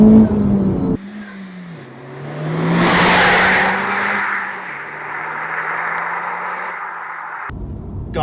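A Honda Civic Type R FK8 hot hatchback pulls hard along an open road, its engine note climbing and swelling through a loud rush of wind and road noise, then settling into a steady cruise.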